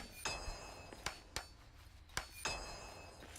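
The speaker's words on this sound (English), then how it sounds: "start banging on everything with a repair hammer" Repair hammer in Return to Moria striking structures, a series of sharp metallic clanks at irregular intervals, about six hits, some ringing, over a low game ambience.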